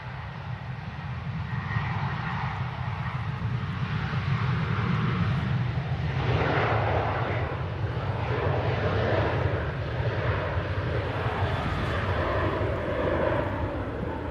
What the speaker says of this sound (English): we've got an Aer Lingus prop on finals as well